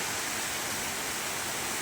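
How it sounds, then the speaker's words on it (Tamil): A small waterfall near Arur on the way to Kalasapadi pours in a steady, dense roar of falling water, constant and loud with no breaks and no voices. "இந்த அருவி பார்த்தீங்கன்னா பாருங்க, அழகை எவ்வளோ அழகாக இருக்குது பார்த்தீங்களா"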